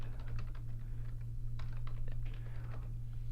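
Steady typing on a computer keyboard, a quick run of clicking keystrokes over a constant low electrical hum, close and moderately loud with no voices.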